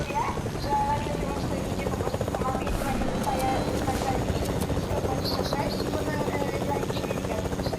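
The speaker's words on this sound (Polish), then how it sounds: "Gdzie jest nasz helikopterek?" A helicopter drones on steadily with a loud, continuous rotor and engine roar while flying in a video game, with people talking over it throughout.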